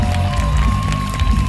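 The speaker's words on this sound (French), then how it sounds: "Je pense que vous pouvez vous applaudir" At a Pokémon concert at Japan Expo Centre 2023, an audience cheers and shouts loudly, with voices rising over a dense roar of the crowd.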